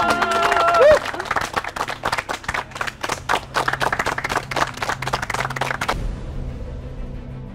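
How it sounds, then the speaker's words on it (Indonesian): An audience claps for a contest winner at an Indonesian stage event. A brief voice opens, then a dense run of close, sharp handclaps sustains for several seconds before stopping abruptly. "Ayo tepuk tangannya dong."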